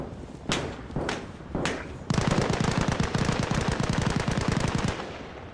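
Gunfire from a BRDM armored vehicle in a combat video game: a few spaced single loud shots, then a long rapid, evenly pulsing automatic burst that runs for several seconds, close and loud.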